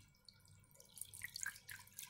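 Water poured into a bread dough mix of milk for a cheese and Spanish salami loaf, a soft trickling and dripping heard close up, fairly quiet throughout.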